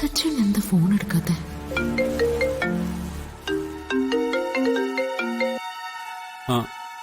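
A phone's melodic ringtone plays a stepping run of electronic notes that rings on unanswered, with a voice speaking briefly at the start and a short final tone near the end.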